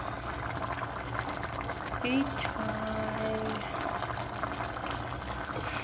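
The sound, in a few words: ginataang tilapia with pechay boiling in pot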